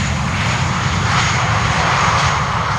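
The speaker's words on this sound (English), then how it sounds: "They were pulling up the reversers for a fraction of a second" Landing airliner at Schiphol's Polderbaan runway briefly pulling up its thrust reversers, a loud continuous roar of jet engines rushing close by with no voices.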